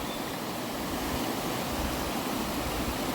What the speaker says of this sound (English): Highest waterfall in England.